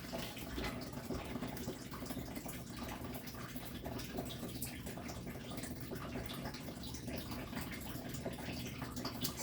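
Warm tap water runs steadily into a container for proofing yeast when making bread, a continuous close splashing gush with a slight dripping texture, no voices.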